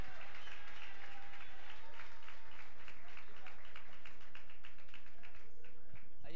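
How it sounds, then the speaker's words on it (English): Audience applause at a Miss Gay Texas America pageant evening gown walk, a steady patter of many hands with some faint background murmur, fairly quiet overall. "Let's have a wonderful round of applause for Naomi Sims."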